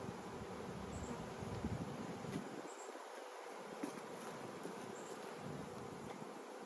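Honeybees buzz in a steady, dense drone while being shaken off a honeycomb during a hive rescue, a continuous swarm hum with soft rustling and no voices.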